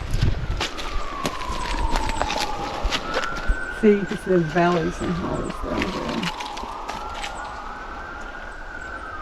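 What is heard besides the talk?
emergency vehicle sirens in the distance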